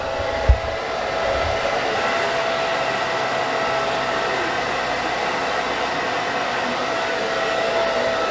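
A handheld hair dryer blows steadily and loudly at close range while drying a salon client's hair, one continuous whooshing drone with a brief bump near the start.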